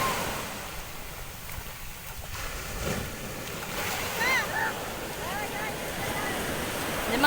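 Rough sea waves wash and rumble steadily on a Bicol shoreline, a continuous noisy surge with wind buffeting, while people speak over it.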